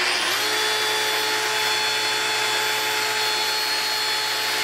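A two-speed oscillating sander spins up and then runs at its regular speed, giving a loud, close, continuous high whine and buzz with no talk.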